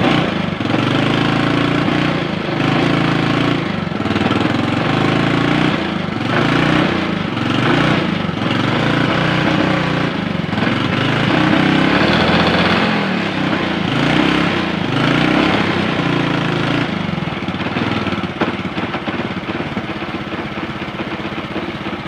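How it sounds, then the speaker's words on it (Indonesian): A Honda Supra X 125 motorcycle engine runs steadily at idle after an ignition (CDI) fault repair, with a continuous close buzzing throb and slight irregular pulsing throughout, no talking. "motornya udah hidup"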